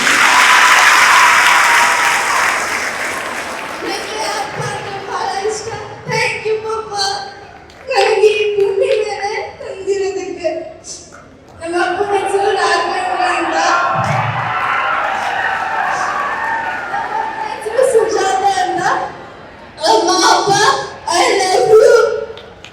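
Loud applause and cheering from a school event audience, sustained crowd clapping with whoops and laughter, rising and falling in waves with brief lulls between bursts.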